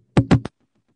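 Three sharp, hard knocks in quick succession from a microphone banged with a hard object to imitate a muffler rattle, the first two louder and closely spaced, the third shorter, followed by silence.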